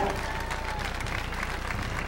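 A carnival audience in San Vicente de Tagua Tagua gives a band a fairly faint, continuous round of applause from a distance.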